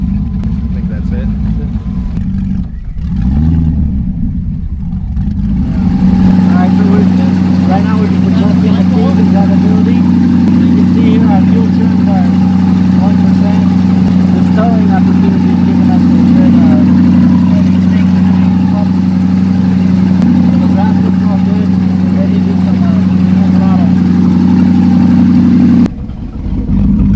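A power boat fitted with a junkyard LS-swapped 5.3 V8 running a 3-blade 25-pitch prop, its engine rumbling steadily and loudly at a constant pitch for most of the stretch, with a short rev at the start and voices talking over it.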